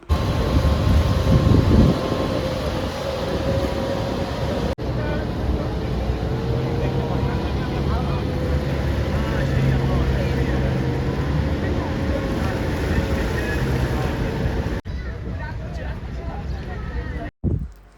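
Boat engine drone and rushing water wind noise while crossing the river below the Rhine Falls in Switzerland, a steady loud rumble lasting most of the span, with a voice talking over it and a sharp cut near the end.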